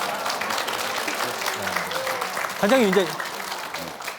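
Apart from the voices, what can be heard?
studio audience applause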